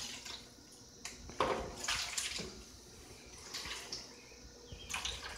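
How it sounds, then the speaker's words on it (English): Water is poured from a container over BBQ ribs marinating in oil, giving short splashy bursts of liquid with gaps between, close and quiet, with light handling noises. "Now you put some water,"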